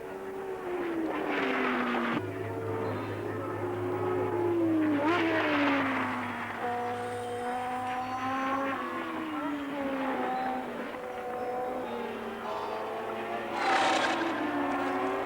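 Formula 1 race cars from the 1973 season running close together, engines whining and shifting pitch as they pass, loud and continuous beneath a narrator's voice.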